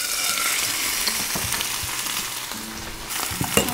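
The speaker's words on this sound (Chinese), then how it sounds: "牛排下锅" Steak sears in a little oil in a hot ceramic-and-steel pan, a loud continuous hiss and crackle with no talking.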